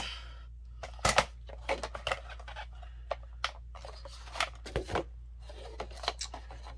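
Scissors cut through faux leather for a journal cover, a series of close crisp snips and rustles with short pauses over a low steady hum.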